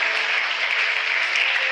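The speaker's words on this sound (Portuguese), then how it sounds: "dê uma salva de palmas para Jesus" A church congregation claps together in steady, dense applause that fills the room evenly from start to finish.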